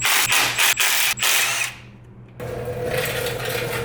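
A power tool, likely a drill or impact driver, removes bolts from a Bronco: several loud whirring bursts with short gaps, a pause, then a steadier mechanical whir close by.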